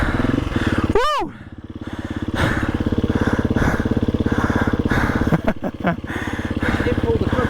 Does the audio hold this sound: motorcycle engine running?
yes